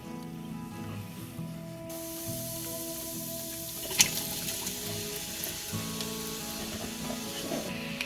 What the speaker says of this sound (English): we can rinse and drain the potatoes and any excess starch and add them to the pot